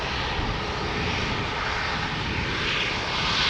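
Embraer 195 E2 jet departing close up at Amsterdam Schiphol, a dense steady engine roar filling the short stretch without letup.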